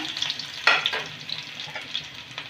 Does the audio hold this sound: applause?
no